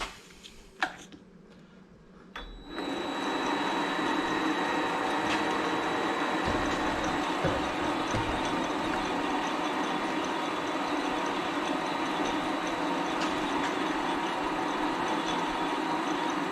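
Vevor MX-750 mini lathe fitted with a rear chuck starts up after a few clicks and then runs at a steady, loud, continuous whir with a faint high whine, with no one talking.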